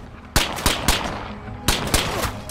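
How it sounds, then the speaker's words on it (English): Enemy gunfire in State of Decay 2 during a clash with a hostile enclave: five sharp, loud shots in two bursts, each cracking out with a short echoing tail over a low background. "They're actually shooting at us."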